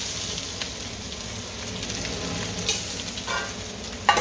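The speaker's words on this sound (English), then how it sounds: "I'm going to cook the vegetables a bit first and then add my rice" Vegetables stir-fry in a pan for kitchen sink fried rice, a steady close sizzle with occasional scrapes of a utensil and a sharp clack at the end.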